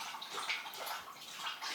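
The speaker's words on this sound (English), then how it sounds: "you can hear my dog drinking water in the background" A dog laps water at a bowl somewhere in the background, a faint, continuous wet splashing and slurping texture with no talk over it.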